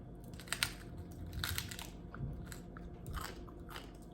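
Close, crisp crunching and biting of roasted duck bones, several loud snaps in irregular bursts with chewing between them, no talking.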